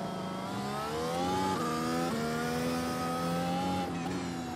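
Mercedes W13 Formula 1 car in the iRacing sim game, engine note climbing steadily as it accelerates out of a corner, with brief dips at gear changes; loud, close and continuous, no talking.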